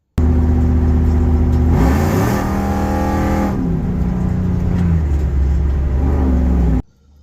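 A Whipple-supercharged Ram truck engine holds loud and steady at the drag strip, stuck bouncing against its limiter near 5,000 RPM, unable to shift, with shifting pitch partway through, then cuts off abruptly.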